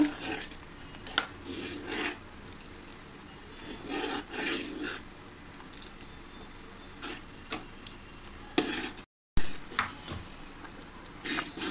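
A spoon scrapes and rasps around a pot of vermicelli kheer with dried fruit, repeated stirring strokes at irregular intervals, close and fairly quiet.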